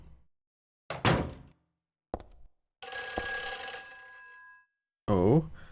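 A telephone ringing in Silent Hill 3, one sustained bright ring lasting nearly two seconds between short bursts of other sounds and a voice.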